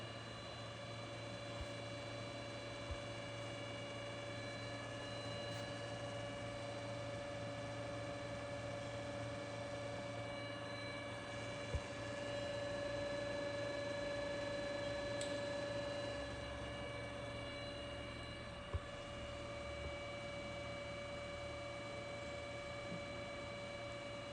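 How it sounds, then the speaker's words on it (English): A Bergonzi TM 50 radial arm drill from Italy hums with a steady tonal motor whine as its spindle travels down in feed, continuous and even with a few faint clicks and no talking. "Working of spindle travel in feed"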